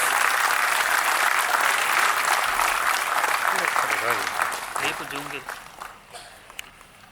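An audience at an inaugural conference session applauds to welcome the chief guest, with sustained clapping that fades over several seconds while a voice speaks underneath and footsteps sound near the end.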